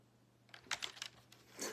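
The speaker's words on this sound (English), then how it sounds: "this particular keyboard's a Logitech 110, older gaming keyboard" Key clicks from an older Logitech 110 USB gaming keyboard: a short, quiet burst of a few taps over a low steady hum, with no talking.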